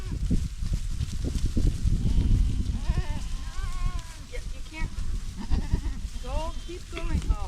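Goat does bleat repeatedly in short wavering cries while being driven into a new pasture section on a rainy day, overlapping a person's urging voice and rustling movement.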